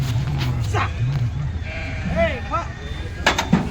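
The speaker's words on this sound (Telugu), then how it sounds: "అవి తెల్ల జాతి గొర్రెలు, నెల్లూరు నుంచి తీసుకొచ్చారట" White sheep brought from Nellore bleat in a few short wavering calls near the middle, with people talking in the background throughout.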